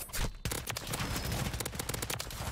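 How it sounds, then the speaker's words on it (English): SMG in a video game firing a long rapid burst after a short pause, dense rattling shots loud and close. "That's the SMG, dude."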